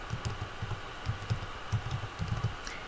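Computer keyboard typing during spreadsheet data entry, with a steady run of soft, close key taps over a faint background hum and no voices.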